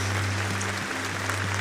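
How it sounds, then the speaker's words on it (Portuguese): Congregation clapping in applause at a church service, a steady dense wash of many hands that holds evenly throughout over a low steady hum. "Vamos dar uma salva de palmas para Jesus"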